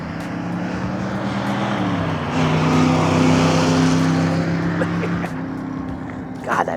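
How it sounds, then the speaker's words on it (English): A 1963 Corvette small-block V8 drives past at steady volume, its low engine drone rising slightly in pitch midway, with some wind and road noise in the background. "Nothing like the sound of a small block."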